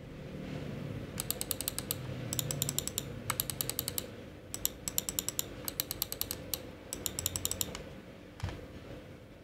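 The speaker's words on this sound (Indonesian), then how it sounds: "Untuk tipe kliknya ini juga silent ya, sama seperti saudaranya si MX Master 3S." A Logitech MX Anywhere 3S mouse gives repeated bursts of soft, rapid clicks, close and fairly quiet, over a steady low background hum.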